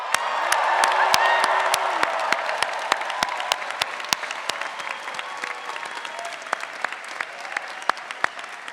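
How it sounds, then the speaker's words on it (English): Applause for the graduating Stanford GSB class of 2024 at their graduation ceremony: a dense burst of clapping with a few cheers that thins out into scattered individual claps. "Let's have a final round of applause for the GSB class of"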